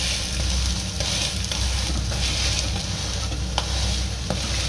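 A paneer cheese sandwich toasting on a tawa griddle over a low flame gives a steady, loud, close sizzle with faint scraping, no voices.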